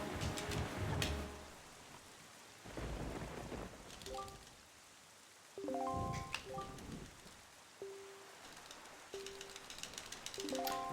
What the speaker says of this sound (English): when we heard the raindrops during the cutscene, or like after the fade out.